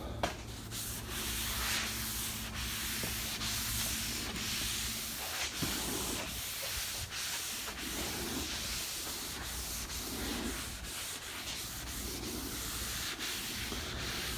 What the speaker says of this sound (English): And you want to sand in all the tight spots really good.